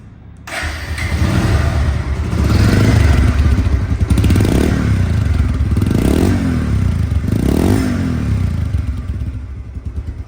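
A Bajaj Pulsar double disc motorcycle in showroom condition starts up and idles close by, then revs in several rising, throaty bursts over a continuous rumbling exhaust.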